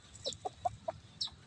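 A young chicken clucks in short, separate calls, about five in quick succession, close by with a quiet background.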